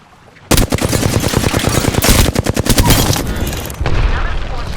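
Rapid automatic gunfire in an Apex Legends match, a loud sustained burst of close shots with a few short pauses and a heavier blast near the end.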